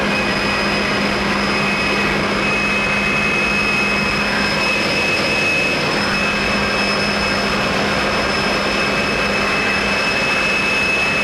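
A Lockheed T-33 jet engine runs at a steady roar with a loud, constant whine and high tonal hums, continuous and close, no voices.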